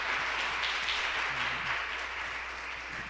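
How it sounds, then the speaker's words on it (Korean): Audience applause for two students at a church school teachers' seminar, dense and steady clapping filling the whole stretch at moderate volume, with no voices over it. "우리 나눔 준비해준 두 학생에게 큰 박수 한번 부탁드리겠습니다."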